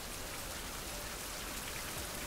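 Steady rainfall in Survival: Fountain of Youth, an even broadband patter that holds constant, quiet and uninterrupted.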